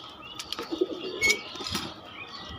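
A few quick bursts of wing flapping from a pigeon, fairly faint and close, with soft chirps in a quiet space.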